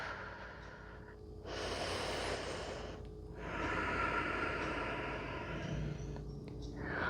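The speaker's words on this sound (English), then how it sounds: "Let's stop and take 1 or 2 breaths here" Slow, deep breaths during a pause in a gentle yoga flow, two long airy exhales or inhales of a couple of seconds each, close and soft with quiet gaps between.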